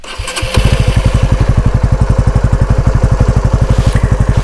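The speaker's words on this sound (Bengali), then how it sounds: "এক্স মোশনের আন্ডারভ্যালি যে একজস্টটা দেওয়া হয়েছে, এটা সাউন্ড একটু আপনাদের শোনাই" A Honda CB150R Exmotion motorcycle starts, then settles into a fast, even, loud idle through its underbelly exhaust, with close, steady, rapid thumping pulses.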